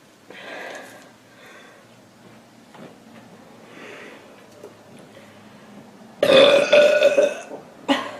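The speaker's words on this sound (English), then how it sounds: "Okay, now I'm ready to burp." A girl burps after drinking Pepsi. A loud, drawn-out belch comes late, after quieter breathy sounds, and a short second burp follows.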